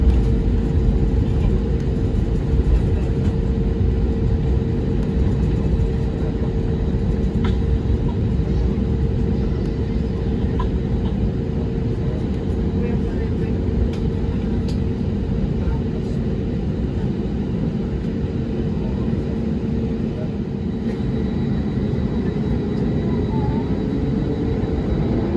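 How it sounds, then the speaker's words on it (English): An airliner's engines rumble and roar steadily throughout a takeoff from San Juan, a loud, continuous drone heard from inside the cabin with no clear change in pitch. "pilots, please prepare for takeoff."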